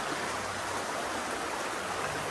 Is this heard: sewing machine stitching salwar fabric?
no